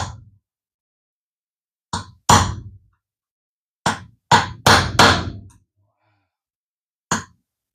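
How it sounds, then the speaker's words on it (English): Light hammer taps on a gear lodged in a vintage Penn International 12W fishing reel during repair: about eight sharp, close knocks, a single one, then a pair, then a quick cluster of four, and a final lone tap, with silence between. "try to tap that gear"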